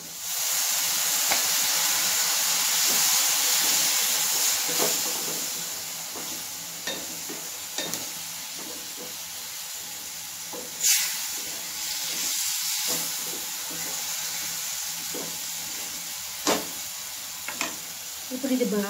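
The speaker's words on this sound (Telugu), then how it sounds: "అది బాగా వేగి ఆయిల్ పక్కకు వచ్చింది కదా, ఇప్పుడు ఇందులో టమాటా పీసెస్ వేద్దాం." Tomato pieces frying and sizzling in hot oil for chema gadda (taro root) curry, a steady close hiss with occasional stirring clatter and brief louder pops, no talking.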